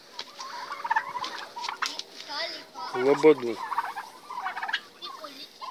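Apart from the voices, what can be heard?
turkeys eating orache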